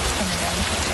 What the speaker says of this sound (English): The rain started falling.